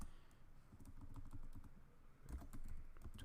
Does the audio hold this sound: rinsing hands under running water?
no